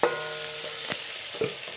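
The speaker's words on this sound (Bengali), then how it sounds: "এভাবে ভেজে নিলাম বেশি ভাজলাম না" Steady close-up sizzling of khoira fish frying in hot oil, with a few soft scraping stirs and clinks, no voices.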